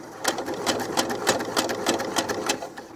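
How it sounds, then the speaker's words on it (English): A sewing machine stitches doll clothes fabric in a steady, evenly paced run of rapid needle strokes, close and clear with no talking. "Now I'm going to sew very slowly until I get almost to my pin and take it out"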